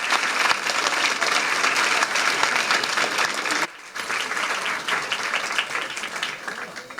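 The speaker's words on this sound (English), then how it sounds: "One more round of applause for our fourth graders from Duff Elementary School." Audience at a school district board of trustees meeting applauds fourth graders from an elementary school, a steady, dense wash of clapping from a roomful of people that briefly dips near the middle before carrying on.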